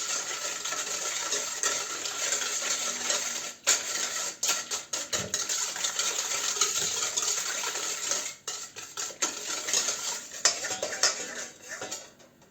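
A spoon clinks and scrapes steadily around a bowl as milk with sugar is stirred, with brief pauses between rounds of stirring.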